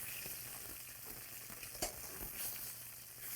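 A thick steak sears in a hot pan with a faint, even hiss and a few light ticks and taps, quiet and close, with no voices.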